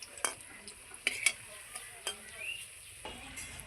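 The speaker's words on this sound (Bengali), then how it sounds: "আর একটু ভেজে নেব" Shiuli leaf batter fritters (bora) frying in hot oil, with a steady soft sizzle broken by a few sharp clicks of a utensil against the pan, close and alone without talk.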